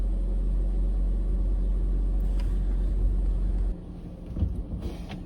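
A heavy truck pulls away toward an unloading point, a deep steady engine rumble at close range that drops off partway through, leaving lighter road and cab noise behind.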